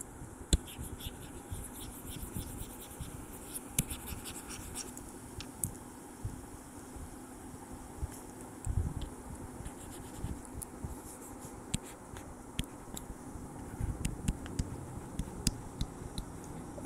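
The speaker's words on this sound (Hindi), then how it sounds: "इसको मैं यहां से नीचे लिख देता हूं" A pen writes on paper in close, quiet detail, with soft continuous scratching and small irregular ticks and taps across the whole stretch, no voices heard.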